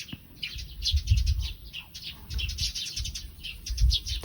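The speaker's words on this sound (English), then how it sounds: "The birds." Birds chirping outdoors in quick bright bursts, with a low rumble of wind or distant traffic underneath.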